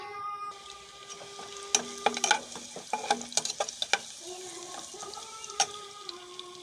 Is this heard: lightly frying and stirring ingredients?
yes